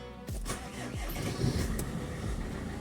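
A Mercedes Vito 639 van's engine, just after an alternator repair, cranks briefly with a few rhythmic turns and then catches, settling into a steady, close idle.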